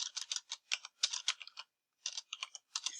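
Quick bursts of keystrokes on a computer keyboard, close and clear, with a short pause midway before typing resumes; no voices.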